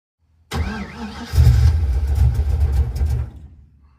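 A car engine with a freshly swapped Edelbrock 1405 carburetor cranks close by, a churning starter run that surges briefly then fades out without catching, no voices.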